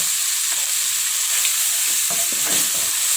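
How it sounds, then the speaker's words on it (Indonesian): Spice paste and crushed lemongrass sauté in a pan for stir-fried long beans with tofu puffs, giving a steady loud sizzle with a few scraping stirs, no talk. "Kita tumis hingga mengeluarkan aroma yang wangi."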